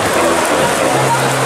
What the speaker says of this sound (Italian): Pioggia incessante allo stadio San Nicola.